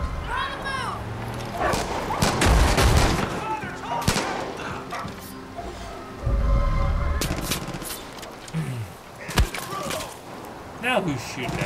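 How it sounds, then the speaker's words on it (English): Gunfire rings out in the video game Far Cry 5, with several sharp shots and short bursts scattered among barking dogs and people talking over the action. "Now who's shooting at me?"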